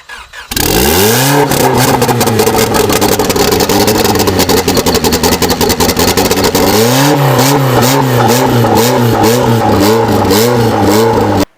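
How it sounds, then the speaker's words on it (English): An engine cranks and catches, then revs repeatedly in loud rising and falling bursts, idling roughly between throttle blips, close by. "in that clip you obviously saw the engine start up."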